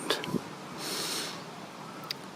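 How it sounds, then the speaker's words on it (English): A sheep gives a few quick, close snuffling sniffs at a hand and a soft snort against a low hiss of background noise. "They like to sniff your hand."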